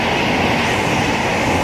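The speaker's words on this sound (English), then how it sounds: "now getting ready to pass is 1 Whiskey 45, the 1624 Thameslink service from Bedford to Brighton, formed of 700" A Thameslink Class 700 electric multiple unit running from Bedford to Brighton passes Elstree & Borehamwood station on the Midland Main Line with a loud, steady rumble and rush of wheels and air close by.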